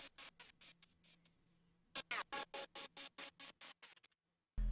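Serum synth lead chopped by a Gross Beat gating effect into rapid, evenly spaced stutters, bright and buzzy, running in a steady rhythmic pulse for a few seconds before stopping, followed by a low thump.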